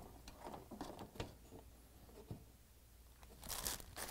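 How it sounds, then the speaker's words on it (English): Plastic nuts are threaded and tightened onto a GE dishwasher heating element, with faint clicking, ratcheting and rustling bursts at close range, plus a brief louder scrape near the end. "So now I'm going to secure the heating element with these plastic nuts"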